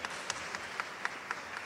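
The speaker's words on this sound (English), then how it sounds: "Can we give her a warm round of applause as well" An audience at a South African youth event applauds, a soft, steady wash of many hands clapping at a distance, fairly faint throughout.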